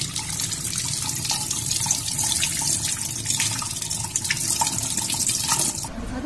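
Water runs steadily while fresh chhena is rinsed and squeezed in a cloth for making rasgulla, a continuous close splashing and gushing flow with faint drips, no voices.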